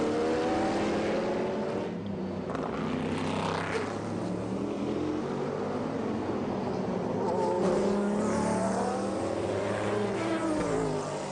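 A BMW V12 LMR race car at the 1999 Le Mans 24 Hours, its V12 engine roaring loud and sustained with rising and falling pitch as it passes, over a continuous background of other engines.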